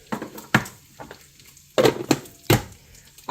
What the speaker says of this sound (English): Hold on, I'm stirring the bacon again.